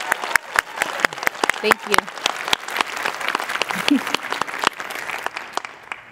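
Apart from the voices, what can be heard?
applause for Natasha and Beth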